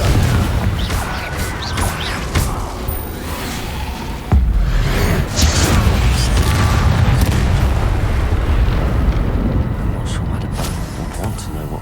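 Confringo fire spell explosions in Hogwarts Legacy, heavy booming blasts with crashing debris and whooshes over a dense, continuous game soundscape, a sharp louder impact about a third of the way through.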